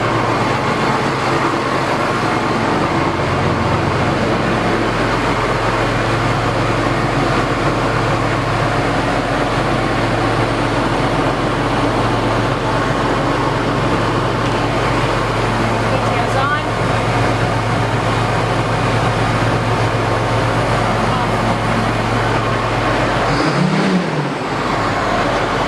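A 2007 John Deere 8430 tractor idles steadily with a low, constant engine drone and PTO hum, close and loud throughout, with a brief low thump near the end.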